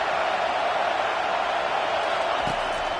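A steady roar from a football stadium crowd at a Georgia Tech versus Texas game, dense and continuous with no clear individual voices.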